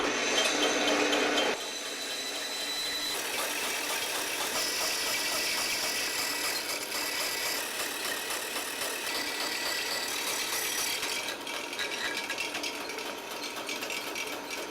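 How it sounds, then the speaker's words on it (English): A bandsaw with a dull blade grinds slowly through a wooden block for a pinewood derby car, a steady rough cutting drone after a brief louder start, close and continuous. "so I'll just take the bandsaw and cut right along this line here with this bandsaw"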